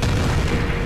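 A deep, heavy boom of bombs exploding in the Splinter Cell video game fills a brief moment, a loud low rumble with no talk over it.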